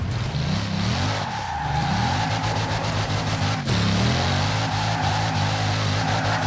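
A Bugatti Chiron set up for rear-wheel-drive drifting in Forza Horizon 4 screeches its tires through long wavering squeals, with the engine droning and swelling underneath, close and loud throughout.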